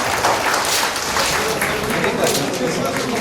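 Audience clapping at a district Dasara festival logo launch event, a loud continuous patter of many hands with voices mixed in underneath.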